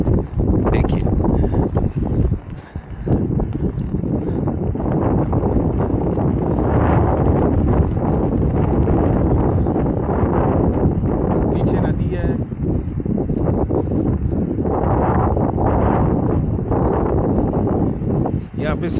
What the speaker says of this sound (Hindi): देखिए कितना तेज़ हवा चल रहा है,